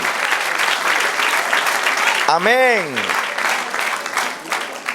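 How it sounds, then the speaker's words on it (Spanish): A church congregation breaks into loud, sustained applause during a sermon, with a dense wash of clapping filling the room while a voice calls out and a brief sung or chanted phrase rises and falls over it. "Dele aplauso al Señor."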